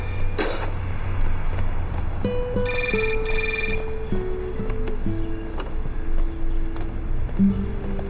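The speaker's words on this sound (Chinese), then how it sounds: "来，老邱，电话。" A telephone rings in a few short electronic bursts, fairly close, over a quiet room background.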